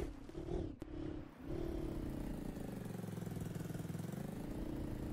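The Honda ATC 200X three-wheeler engine in Farming Simulator 2019 settles into a steady, even idle after a short rise and dip, a close, moderately quiet putter with no talking.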